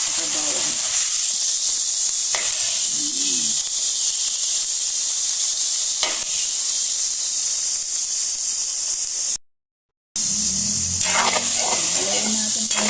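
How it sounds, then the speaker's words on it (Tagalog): Meat sautés in a pan with onion and garlic, a loud, steady sizzling hiss broken by a few stirring scrapes and a brief cut, with faint sounds near the end. "ilagay ko na din yung ating karne para habang nagigisa yung ating karne ay nagigisa na din yung ating sibuyas at saka bawang"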